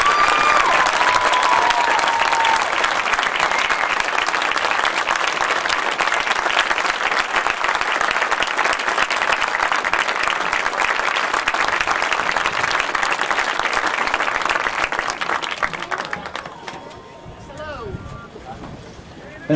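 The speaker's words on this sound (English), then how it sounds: "Let's give Coach Crist and his family another round of applause." A crowd at an outdoor sports field dedication applauds loudly and continuously, with dense clapping that lasts about fifteen seconds before tapering off to quieter ambience and light wind noise.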